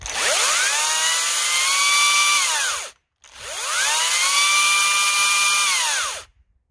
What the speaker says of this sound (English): check out the rotation or the spin on this chain